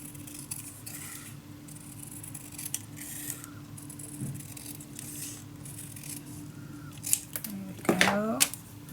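Scissors cutting a strip of blue paper for a Roaring Twenties scrapbook mini album, with soft, close snips and paper rustle while someone talks quietly alongside.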